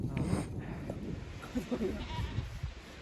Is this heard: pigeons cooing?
no